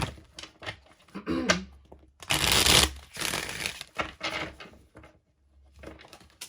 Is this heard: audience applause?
no